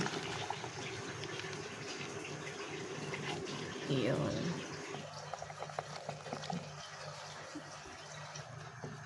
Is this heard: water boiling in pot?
yes